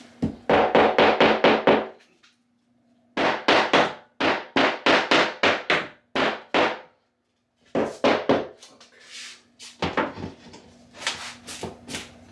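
Hammer striking a small cover to tap it into place during a bedroom makeover, in close, loud bursts of rapid repeated knocks separated by short pauses, about forty blows in all.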